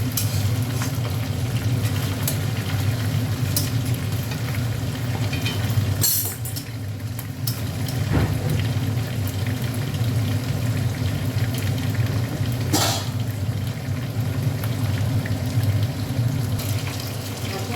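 Catla fish heads frying with panch phoron in hot oil, a steady close sizzle and crackle running throughout, with a few soft clinks and a brief scrape of stirring.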